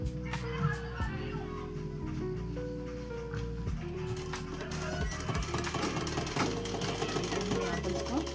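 A sewing machine stitches extra seam along the fold of a simple dress, running in steady mechanical bursts with short pauses, close and fairly loud, with voices and child-like chatter in the background.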